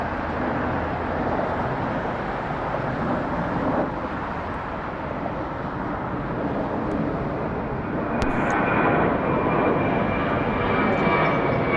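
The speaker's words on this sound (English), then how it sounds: "Departing Atlanta is Delta Airlines Flight 1425 to its destination of Daytona Beach." A Boeing 737 jet departs Atlanta airport, its engines giving a broad, steady roar that stays loud and constant with a slight swell toward the end, heard from a distance outdoors.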